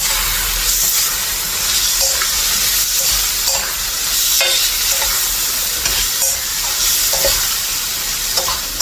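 Food cooking in a pan at home, continuous sizzling frying with repeated scraping and stirring strokes, near and steady without any talk.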